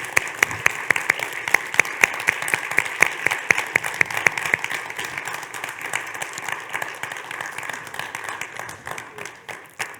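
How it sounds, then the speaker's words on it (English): Applause from an audience at a PhD defence ceremony, steady dense clapping that is loud at first and thins slightly toward the end, with no speech over it. "Give it an applause."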